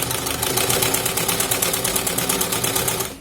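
A sewing machine runs steadily while stitching a patchwork block for a gas cylinder cover. The rapid, even mechanical chatter is close and continuous for about three seconds, then stops abruptly, and no one speaks.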